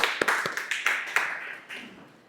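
A small audience at a speaking event gives a short round of scattered claps that thin out and fade within a couple of seconds.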